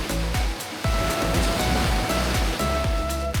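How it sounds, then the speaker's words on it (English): Waves roll onto a beach in the Algarve, a loud, steady surf roar with rhythmic thumping, heavy and close, as though heard near the waterline. "Bigger waves here than all the other beaches I've been to."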